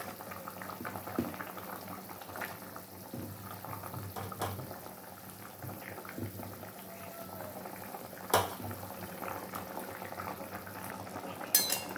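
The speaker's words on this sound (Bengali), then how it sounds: "যে মাছগুলো দিয়ে দিয়েছি আরও কিছুক্ষণ ফুটিয়ে নেব যাতে মাছটার ভেতরে সব কিছু ঢুকে যায়" Stingray fish curry bubbling steadily in a pan, a soft continuous simmer with occasional faint clinks of utensils near the end, no voices.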